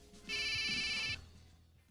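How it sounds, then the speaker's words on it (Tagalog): A mobile phone ringtone chirps in a bright, fast warble for just under a second in a Filipino drama scene, fairly loud and close, then cuts off leaving a quiet room. "Ang cellphone ko."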